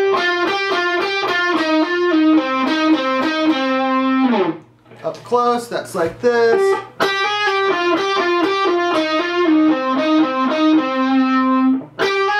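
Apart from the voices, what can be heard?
distorted electric guitar hammer-on and pull-off shape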